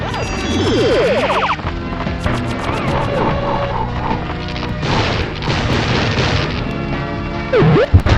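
Dot explosions hit Toc-Man in the Pac-Man World video game, loud crashing booms and smashing bursts over busy game music and effects, continuous and dense throughout.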